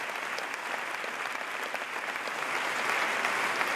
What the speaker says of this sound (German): Zu Recht gab es am Ende Standing Ovations vom Publikum.